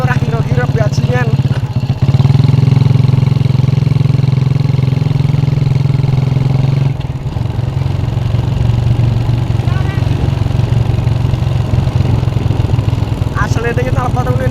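Motorcycle fitted with a loud aftermarket Altan exhaust, running on a road test: a steady, heavy low engine drone that holds through the whole stretch, dipping briefly and then rising again, with faint voices in the background.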